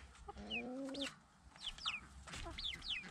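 Hens and chicks in a backyard coop give short high peeping chirps and a few low clucks, close by and fairly quiet, recurring in small bursts over a faint background.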